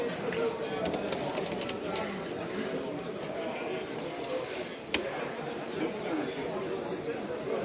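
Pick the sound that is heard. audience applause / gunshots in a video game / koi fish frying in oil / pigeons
pigeons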